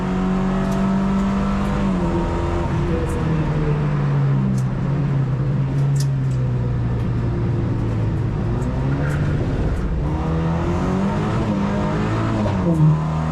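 A Lynk & Co 03+ drives at speed around a racetrack, its engine loud and close. Revs climb and then drop sharply at each quick gear shift, with faint tire noise underneath.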